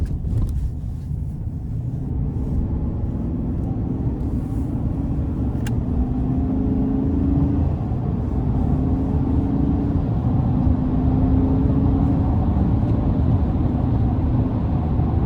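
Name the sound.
2024 GMC Sierra 1500 Pro X31 5.3 V8 accelerating onto interstate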